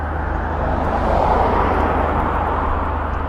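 A drone flies overhead in a continuous whirring, buzzing drone with a low steady hum. It stays close and loud and swells slightly midway, with no speech.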